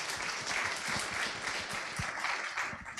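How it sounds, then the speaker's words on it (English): Audience applause at the close of a session at the PyCon Lithuania tech conference: steady, fairly quiet crowd clapping with a few sharper nearby claps standing out, continuous throughout. "So give a round of applause for Ailius and Audrius."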